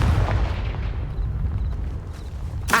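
Hogwarts Legacy's Confringo fire spell goes off in a deep booming blast that rumbles and fades, then a sharp burst snaps in at the very end.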